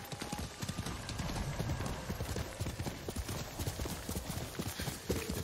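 Horse hooves pounding in Ghost of Tsushima, a quick rhythmic clip-clop of galloping, close and steady for several seconds with faint talk underneath.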